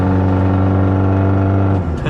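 Diesel truck engine boosted for more power, loud close steady rumbling drone with strong low tones that shift slightly toward the end as it revs.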